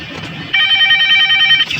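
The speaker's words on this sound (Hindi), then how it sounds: "फोन आ रहा है हमारा।" A telephone rings inside a video game set in a VHS rental store on a midnight shift, a steady electronic trill lasting about a second, loud and close, cutting in after quieter game ambience.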